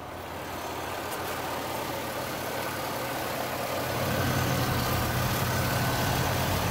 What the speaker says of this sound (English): The engine's running smooth.